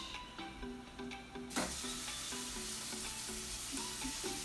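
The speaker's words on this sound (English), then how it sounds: "if it's not making that sizzle noise, then your pan is not preheated" Meat hits a preheated pan and breaks into a loud, steady sizzle that continues close up; a few soft tapping sounds come before it.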